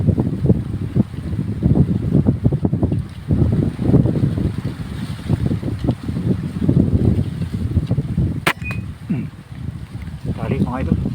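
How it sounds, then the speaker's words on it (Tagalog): Strong wind buffets the microphone in loud, gusty rumbles while someone talks throughout, with water and boat noise underneath. "Grabe lakas kasi ng hangin"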